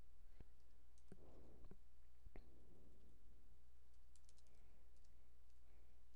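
Keys clatter on a computer keyboard as a short search query is typed, giving a few quick bursts of clicks with pauses between them, close and fairly quiet, with no talking.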